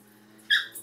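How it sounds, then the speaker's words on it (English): A playful puppy lets out one short, high yelp that fades into a brief second squeak, close by and fairly loud over a quiet room with a low background hum. "That little scream was my puppy."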